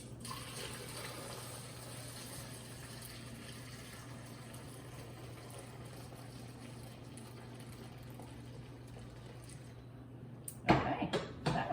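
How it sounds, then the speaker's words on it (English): Hot homemade chicken stock is poured steadily from a pot into a Pyrex container set in a kitchen sink, a continuous close liquid pour lasting several seconds before ending in a few louder splashes and clatters. "I really like to put my Pyrex container right in the sink and pour this hot liquid in here"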